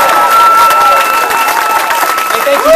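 A crowd at a 2012 campaign office opening for Governor Tim Kaine cheers and claps, a loud, close, continuous swell of voices and applause.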